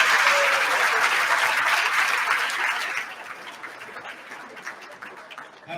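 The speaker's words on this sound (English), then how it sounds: "let's give all those winners a big round of applause again" Applause for award winners at the Crystal Apple Awards, a full audience clapping loudly at first, then thinning out and fading to scattered claps.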